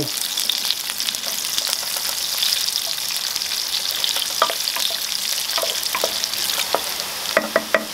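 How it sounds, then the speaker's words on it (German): Garlic sizzling in olive oil in a pan over medium heat, a constant bright hiss with small crackles and occasional louder pops, close and continuous throughout. "Dann reduziere ich die Temperatur auf mittlere Hitze und gebe den Knoblauch mit dem Olivenöl hinzu."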